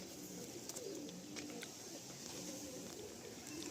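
Pigeons coo softly in a loft, a low murmuring of several birds over a constant hiss, with no talking.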